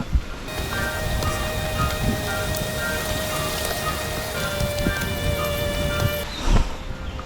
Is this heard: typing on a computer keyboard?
no